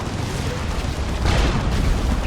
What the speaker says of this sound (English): Demolisher Cannon.